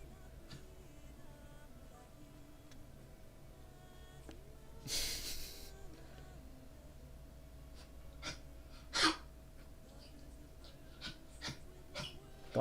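Dog sounds in a quiet room: a few short snorts, breaths and faint whimpers, with one louder burst of breathing noise partway through, fairly close but soft overall.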